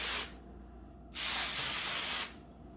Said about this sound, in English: take your Remington Shaver Saver and just give it a couple sprays of Shaver Saver here